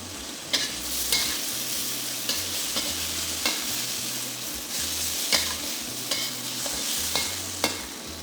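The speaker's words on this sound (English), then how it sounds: "Fry the shrimps till they are pink on both sides." Shrimp sizzle steadily in hot oil in a pan for a stir fry, a continuous crackling fry punctuated by sharp clinks and scrapes of a utensil stirring at irregular intervals, with no talking.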